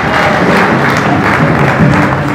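Wedding guests applaud together, a dense, steady wash of clapping with faint crowd murmur, loud and continuous throughout.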